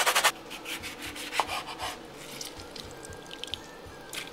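A lemon peel is grated on a zester with quick, short rasping strokes in an irregular rhythm, close and fairly faint, with a few soft clicks in between.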